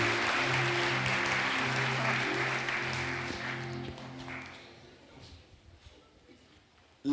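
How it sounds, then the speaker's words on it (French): A church congregation at Christmas Mass applauds the children, with dense clapping that fades out over several seconds beneath a low held tone, leaving near quiet at the end. "Est-ce qu'on peut les applaudir encore?"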